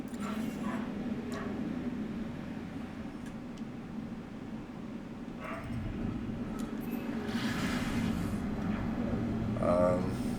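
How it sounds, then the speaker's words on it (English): A dog in a house gives faint yips and whimpers behind steady background noise, with brief sharper bursts scattered through and a louder stretch near the end. "I'm going to ignore the dog this time"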